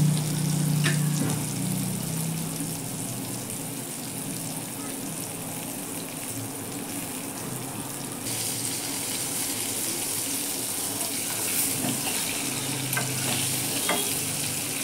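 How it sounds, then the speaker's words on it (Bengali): Potatoes and pointed gourd fry in a pan with a steady, close hiss and occasional scraping stirs, the sizzle brightening partway through. "আলু পটলগুলো লাল লাল করে ভাজা হয়ে গেছে"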